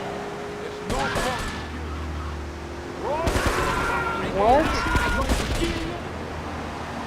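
Gunfire from the video game GTA 3, bursts of shots around the middle and later part alongside engine and game ambience, with a voice speaking briefly over it.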